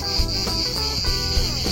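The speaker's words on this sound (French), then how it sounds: "les cigales, assourdissantes." Deafening chorus of cicadas in dry limestone causse country of Lozère, a dense continuous buzz with pulsing rhythmic swells, loud and close, no voices.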